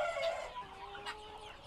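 Chickens at a chicken farm cluck repeatedly close by, several overlapping squawks and clucks in an uneven rhythm over a steady background hum, with no talking.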